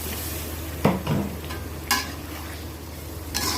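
Broth splashes into a pan of fried gucho fish with a soft sizzle, and a few brief stirring scrapes rise above a steady low hiss.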